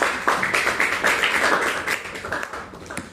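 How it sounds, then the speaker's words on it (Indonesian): A classroom of students claps hands together in a quick burst, several rhythmic rounds of clapping that are fairly close and loud, fading toward the end. "Tepuk tangan buat kelasnya"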